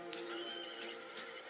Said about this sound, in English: Now the horse whinnies